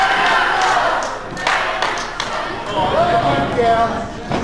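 Wrestling crowd at a PLW match cheering and chanting in bursts, with thumps and shouts mixed in and a voice talking over the noise.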